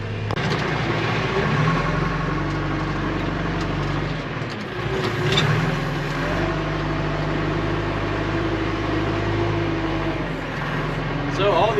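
A backhoe's diesel engine rumbles steadily and loudly at a farm cabin building site, where it is moving gravel for a concrete base. The low drone holds throughout with slight swells.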